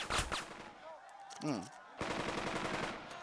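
Rapid bursts of machine-gun fire from the WWII tactics game Burden of Command rattle in a steady stream in the last half, after a sharp early shot and a short whooshing sweep, with faint talk beneath.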